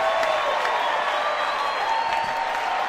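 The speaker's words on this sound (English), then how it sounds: "Listen to this crowd as he goes up, extends" Baseball stadium crowd roaring and cheering after an outfielder leaps at the wall to rob a home run, a steady, distant wash of noise with some scattered clapping.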